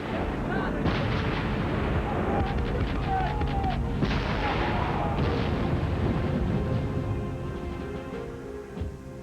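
Cannon fire rumbles between sailing warships in a naval battle as French ships fire on the Vanguard, with a continuous dense barrage of booms and reports filling the scene while a narrator speaks over it.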